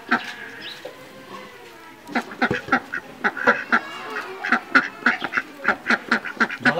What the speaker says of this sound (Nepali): मलाई बरु हाँस समातिदिइहाल्दे